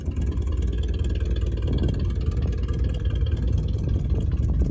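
A 1979 Chevy C30 truck engine idles steadily with a rough, low rumble and a ragged, puffing exhaust note from many exhaust leaks, running continuously without any voices.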